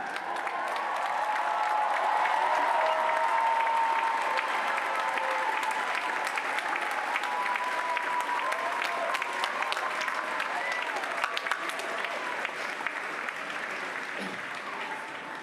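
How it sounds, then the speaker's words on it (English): A large graduation audience at a university final exercises ceremony claps in sustained, dense applause, steady and full for most of the stretch before gradually thinning toward the end, with faint voices underneath. "give a round of applause to those who helped you on this journey"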